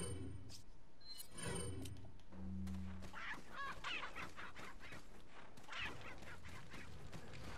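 A chicken in Resident Evil 4 clucks and squawks in short bursts among other game sounds, with a brief low honking tone partway through, moderately loud with no talking.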